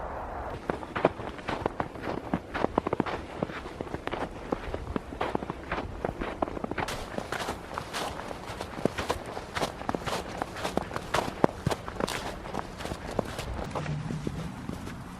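Footsteps hiking through Michigan woods on a cold, sunny day with a light breeze, a steady close rhythm of crunching strides continuing for the whole stretch, with no speech.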